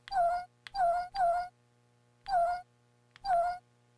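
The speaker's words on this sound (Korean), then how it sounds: "실제로 야옹 사운드는 나지 않습니다. 제가 그냥 넣은 겁니다." A cartoonish cat meow sound effect repeats five times, each meow short and clean with small gaps between, three in quick succession and then two more spaced apart.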